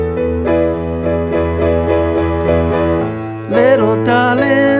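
A piano plays a line of a song with steady eighth notes pulsing in the left hand beneath the melody, ending on a brighter, fuller chord; close and loud with no speech.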